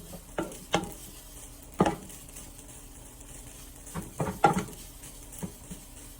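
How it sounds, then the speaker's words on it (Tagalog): A spatula stirs and tosses vegetable fried rice in a pan: several scraping, clattering strokes come in irregular bursts over a faint background sizzle, with no voices. "Ihalo-halo lang natin yung ating rice"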